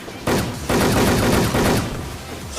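Bombs rain down in the online shooter Wolfteam: loud, dense bursts of explosive noise start abruptly, with rumbling blasts overlapping in a few sustained waves that thin slightly toward the end, with no talk over them.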